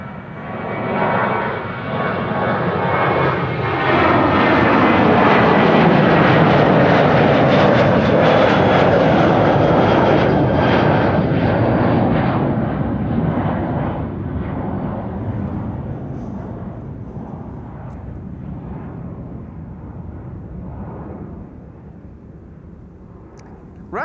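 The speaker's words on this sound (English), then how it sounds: "And a departure here on runway 24. KLM flight 1043 to Birmingham." A KLM airliner departs runway 24 at Amsterdam Schiphol with a loud, broad jet engine roar that swells over the first several seconds, then slowly fades as it climbs away. No one speaks.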